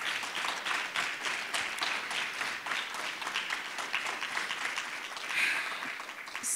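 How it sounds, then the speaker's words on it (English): Steady applause fills a small evening fundraiser gathering, dense clapping from the audience holding at an even level throughout with a brief swell near the end. "One more round of applause for them."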